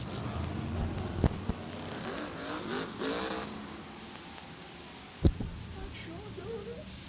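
Modified race cars roar around a short oval track during a 77-lap feature, a distant steady engine drone with a couple of sharp bangs, under a commentator's voice.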